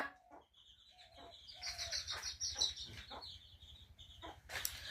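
Chickens cluck and chirp in short, scattered calls nearby, a few higher squawks rising over a quiet background with a low steady hum.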